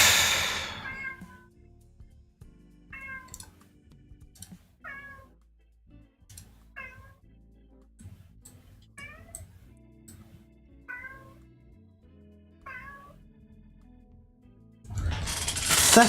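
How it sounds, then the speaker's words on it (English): A cat gives a series of about seven short, clear meows spaced a second or two apart, fairly close, with quiet mechanical noise between and bursts of louder noise at the start and end. "And that's the cat."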